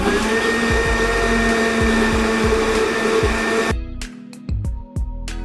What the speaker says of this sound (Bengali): এখন আমি ব্লেন্ড করে নিচ্ছি।